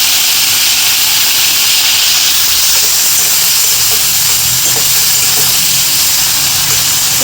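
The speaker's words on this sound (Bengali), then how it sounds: "এবার চিংড়িটা আগে ভেজে নিচ্ছে" Prawns rubbed with salt and turmeric fry in hot oil, making a loud, dense, unbroken hiss that fills the whole stretch with little change.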